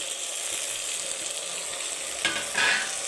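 Tomato and coriander fry in a pan with a soft continuous sizzle, close and steady, broken near the end by a couple of brief stirring clinks.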